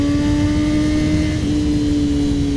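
A 2021 Honda CBR1000RR-R SP motorcycle engine held at high RPM, a loud, steady droning whine with a strong sustained tone throughout, close and alone.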